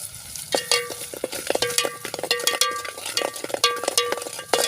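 A metal spoon stirs salt, turmeric and chilli powder through hot oil in a pan for a Shegaon-style potato bhaji, scraping and clinking in quick close rhythmic strokes over a faint background of frying.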